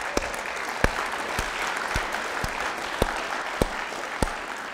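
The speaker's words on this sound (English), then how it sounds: "give yourselves a round of applause" Steady applause from an audience at a talk on water protection in the San Luis Valley, a dense even wash of clapping with a few sharper claps standing out, moderately distant.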